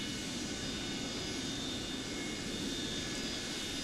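Steady, loud broadband jet roar with a faint high whine from a Pan Am Cargo Boeing 727 taxiing, constant and close throughout with no talk.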